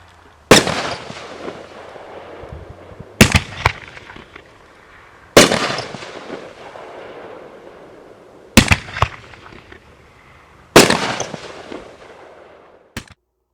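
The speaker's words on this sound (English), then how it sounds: "After the initial explosion, additional lights appear seemingly out of nowhere." Ghost fireworks go off outdoors as a series of about six loud, sharp bangs spaced a couple of seconds apart, each followed by a short crackling decay.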